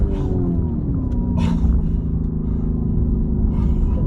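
A Lamborghini Urus engine roars loud and close from inside the cabin, pitch sweeping as it downshifts and then rising under acceleration in a continuous deep growl.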